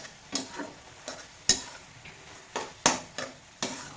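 Spatula stirring a dry spinach stir-fry seasoned with salt in a pan, giving a series of sharp scraping and tapping strokes about every half second over a faint sizzle, with no talking.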